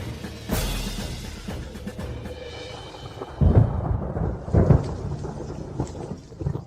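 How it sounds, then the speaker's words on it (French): Sudden rain with thunder: a sharp thunderclap, then deep rolling rumbles and a steady wash of falling rain, with no voices. "Pourquoi il se met à pleuvoir tout à coup?"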